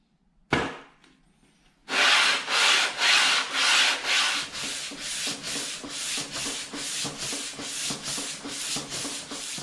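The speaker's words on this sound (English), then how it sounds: "So I'll get on with a bit of sanding" An antique Stanley No. 4 hand plane is sanded by hand with sandpaper, a steady rhythm of rasping back-and-forth strokes, close and fairly loud, after a brief initial knock, with no talking.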